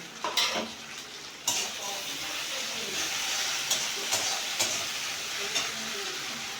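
Ginger garlic paste sizzles in a hot pan with steady frying hiss, broken by a few clinks of a spoon against the metal as it is stirred.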